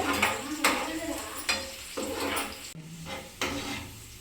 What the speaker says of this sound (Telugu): గోల్డెన్ కలర్ వచ్చినంత వరకు అయితే ఆనియన్స్ అయితే ఫ్రై చేసుకోవాలి